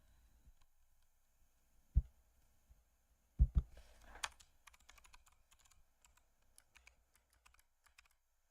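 Typing on a computer keyboard, sparse at first with a few heavier thumps, then a quick run of light clicking keystrokes that trails off into scattered taps, quiet and close with no talking.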